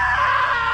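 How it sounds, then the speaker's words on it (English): A character in the video game What Remains of Edith Finch lets out a loud, sustained, high scream that holds steady for under a second, with no other sound around it. "Now that was a great scream."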